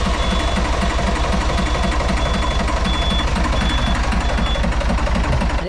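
A narrowboat's diesel engine runs in a steady, loud chugging rhythm with even knocking pulses and a faint periodic high tick, close up and with no talk over it.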